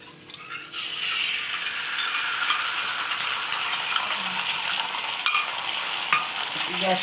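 Oil sizzles steadily in a hot chapati griddle for chicken egg rolls, a continuous bright hiss with scattered clinks of a utensil against the pan, no voices.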